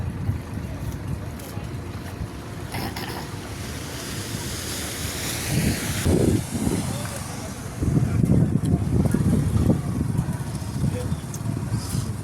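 Sea waves surging onto a beach, a steady broadband wash with louder swells breaking near the end, mixed with wind buffeting the microphone and a few voices talking in the background.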